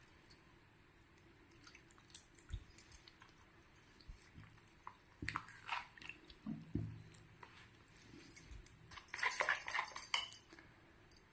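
Idli batter of jowar flour and water stirred by hand in a bowl gives soft wet squishing and scattered spoon clinks against the bowl, sparse and intermittent, growing busier toward the end.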